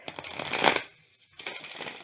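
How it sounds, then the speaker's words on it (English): A deck of tarot cards is riffled and shuffled up close, giving a dense papery flutter that stops briefly and then starts again. "let's see if I can even shuffle these."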